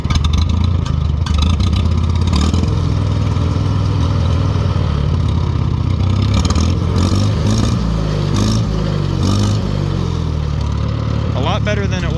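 A 1940 Farmall H tractor with an M&W nine-speed runs with a steady, loud engine chug close by, the rhythm wavering slightly while it still needs tuning, with someone talking over it.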